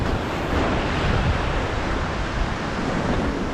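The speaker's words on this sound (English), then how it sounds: "Watch the waves." Sea waves break along a rocky shore where bass are being lure fished, a loud, unbroken roar of surf mixed with wind buffeting the microphone, with no voices.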